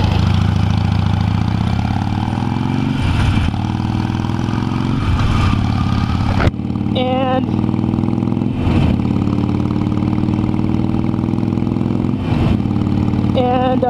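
A Ducati Monster 696 motorcycle engine idles steadily and loudly close by, its throttle blipped into several short revs that rise in pitch and then settle back to idle.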